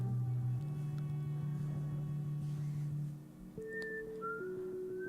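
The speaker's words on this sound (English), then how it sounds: "Nor did I know there was whistling in this." Sustained whistled tones in a song recording, a long steady low note that later steps up to higher held pitches, soft and isolated, with no voices.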